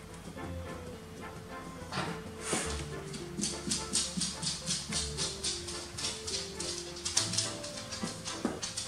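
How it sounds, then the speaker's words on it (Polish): A dog in the video game Old Man's Journey whimpers faintly in a steady, pulsing series of soft cries. The cries sit over gentle background music and carry on throughout. "mam tutaj psa niestety"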